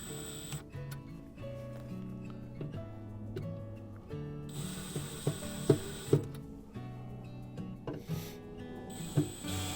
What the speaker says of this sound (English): so we'll tighten that with a screwdriver